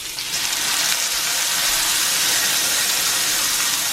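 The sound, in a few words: ribeye steak searing in smoking hot cast iron pan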